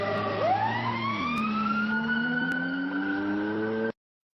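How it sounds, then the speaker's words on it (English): AI-generated sirens and a humming engine approaching and passing: wailing sirens rise and bend in pitch over a steady low engine drone, ending in a sudden cutoff near the four-second mark. "Sirens and a humming engine approach and pass."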